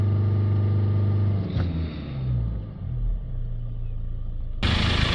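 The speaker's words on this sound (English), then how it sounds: "we're going to hold the revs up to around about 3000 rpm" A Land Rover Discovery Sport engine held at raised revs around 3000 rpm gives a steady, loud rumbling drone that dips and wavers midway, then a sudden brighter, harsher burst of noise at the end.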